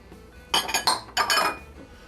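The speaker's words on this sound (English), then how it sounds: "let's mix this all together." Canned pumpkin pie filling with eggs is mixed in a bowl, making two short bursts of bright clinking and scraping from a utensil against the bowl, close by, with quiet pauses between and no talk.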